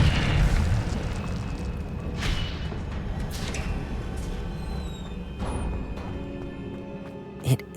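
Incendio fire spell cast in Hogwarts Legacy, a deep booming whoosh of flame with rumbling low end, sustained for several seconds, with a few sharp crackling bursts and a final thump.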